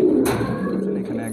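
Pet pigeons coo close by in a short burst of low, throaty, rolling calls, loud and clear over a faint room background.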